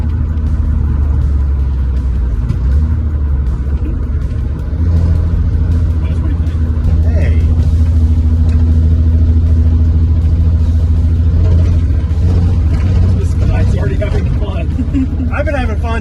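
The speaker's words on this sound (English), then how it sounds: "Went ahead and did some test driving around the block." A Datsun 280ZX on a test drive around the block, its engine a loud, continuous low rumble heard from inside the car with slight rises in revs, and people talking over it.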